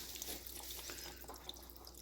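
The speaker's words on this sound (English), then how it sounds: "I just put some water into this can." Water from a tap runs into a can while soup is being prepared, making a steady, close splashing trickle with a few drips throughout, no voices.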